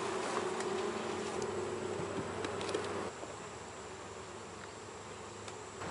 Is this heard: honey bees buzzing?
yes